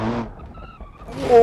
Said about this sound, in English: the engine braking is locking up the back wheels